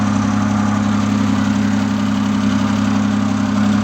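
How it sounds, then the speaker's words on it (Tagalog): A Daihatsu Multicab engine idles steadily and loudly with its auxiliary fan running, a constant low hum and whir with no break. "Mandar na yung aux fan guys, auxiliary fan."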